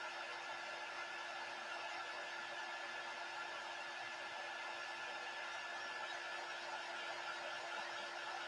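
A hair dryer blowing steadily on an inked flour sack dish towel, giving a faint, even, continuous airy whoosh with no change in pitch and no voices.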